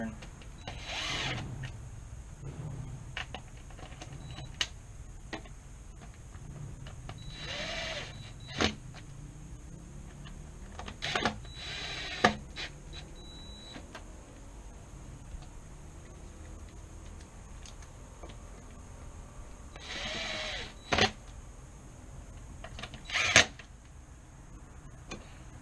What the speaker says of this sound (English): Go slow at bolting it down, doing this cross pattern.